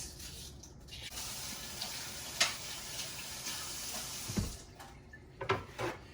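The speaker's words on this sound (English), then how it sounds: "And y'all know I always rinse my onion off." An onion being rinsed under a running kitchen tap, a steady wash of water with a few brief clinks and handling knocks toward the end, close and fairly quiet, with no talking.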